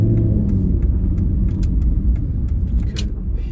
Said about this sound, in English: And you can hear the gearbox clinking and clunking.